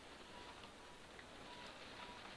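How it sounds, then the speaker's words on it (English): Heavy rain pours onto a sloping attic roof and skylight, a faint, steady hiss of dense drops with no pauses. "So much rain."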